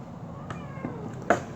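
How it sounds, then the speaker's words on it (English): An indoor cat meows in an agitated way at a moth, with a drawn-out wavering cry followed by a sharper, louder yowl near the end over low room noise. "there's a moth in here, so he's like freaking out"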